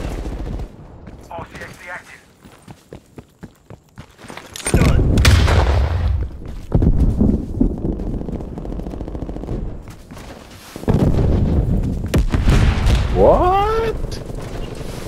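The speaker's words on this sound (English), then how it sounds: "I shot the thing in his fucking head" Gunfire in the game Black Ops Cold War, Satellite map in Hardpoint mode, with loud bursts of shots and booming impacts that come and go across the clip, mixed with game noise and voices in the background.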